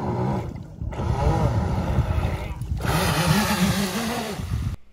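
A 3D printed RC boat with impellers on its first test run gives a nearby motor whine that rises and falls in pitch over churning water, with brief pauses in between.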